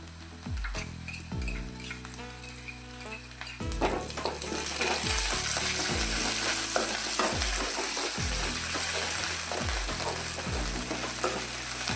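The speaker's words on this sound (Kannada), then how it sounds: "ಈರುಳ್ಳಿ ಕೂಡ ಫ್ರೈ ಆಗಬೇಕು ನೋಡಿ ಈ ರೀತಿ ಫ್ರೈ ಆದಮೇಲೆ ಮೆಣಸಿನ್ಕಾಯಿನ ಹಾಕ್ತಿದ್ದೀನಿ" Onion and green chillies frying in a pan for a curd-based greens curry, a steady loud sizzle with repeated scraping stirs, the hiss growing denser and brighter partway through.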